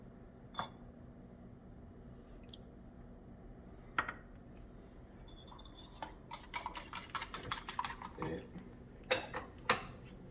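Omelet eggs are whisked with garlic powder, a fork or utensil clinking and tapping against a bowl in quick irregular bursts that grow busier toward the end, close and fairly quiet with no talking.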